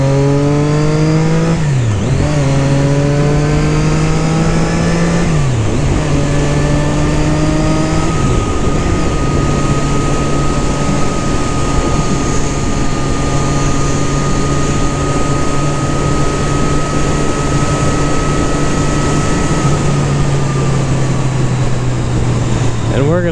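Triumph Daytona 675 R sport bike on a test ride, the engine droning loud and close, pitch climbing through gears with sharp drops at each shift before settling into a long steady cruise with wind rush.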